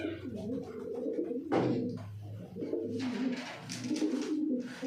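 A male and female pigeon being paired coo up close, giving several low throaty rolling calls with brief gaps and some soft rustling between them.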